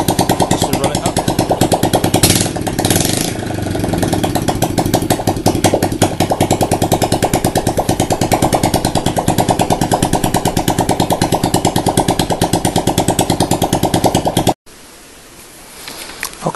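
A Honda ANF 125 Innova motorcycle engine runs with no exhaust fitted, giving a harsh, loud, rapidly pulsing clatter that stays steady and close before cutting out near the end.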